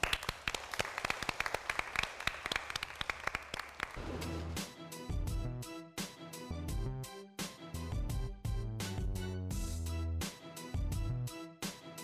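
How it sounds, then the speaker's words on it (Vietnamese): Audience applause congratulating a couple on a travel show, a few seconds of scattered clapping that then gives way to music with a strong beat. "tôi rất muốn là tất cả chúng ta cùng dành một tràng vỗ tay nữa để chúc mừng hạnh phúc cho họ"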